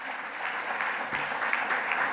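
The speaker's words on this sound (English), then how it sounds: "if you join with me in offering them a round of applause" Steady applause from a conference audience at a biodiversity markets session, a dense even wash of clapping at moderate volume with no one speaking over it.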